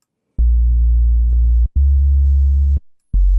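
Deep, steady synth bass tone with a monophonic patch, sounding in three sustained notes that cut off abruptly with short gaps between, loud and alone with no voices.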